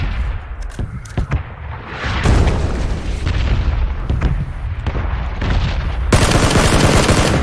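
Heavy gunfire in the battle-royale game PUBG, loud booming shots and bursts stacked densely over several seconds, with a sharp louder volley near the end.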